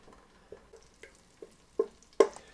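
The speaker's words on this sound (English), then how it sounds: "I'm just going to speed it up by stirring it around a little bit in there" Melting butter is stirred in a pot, with a few soft, evenly spaced taps and scrapes of a spoon against the metal that grow a little louder toward the end, otherwise quiet.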